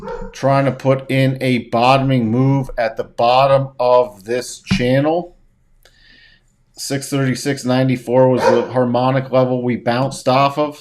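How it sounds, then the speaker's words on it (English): A dog barks in the background, the barks mixed under a man's close, steady speech about the stock market. The talk breaks only briefly. "Sorry for the barking in the background."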